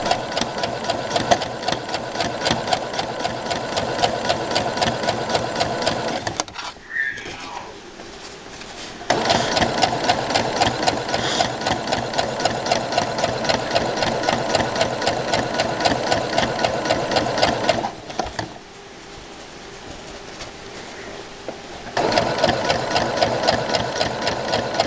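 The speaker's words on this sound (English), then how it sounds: "I'm just stitching along my edges." A sewing machine stitches along the fabric edges of a small baby bow tie, a rapid steady mechanical chatter running close and loud, pausing twice briefly before starting up again, with no speech.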